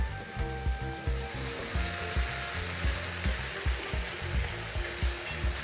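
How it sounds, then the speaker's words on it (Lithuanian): Potatoes dropped into a hot kazan cauldron on a kamado grill, crackling and sizzling loudly in oil, with steady frying hiss and occasional stirring clatter. "Keliauja bulvės į kazaną."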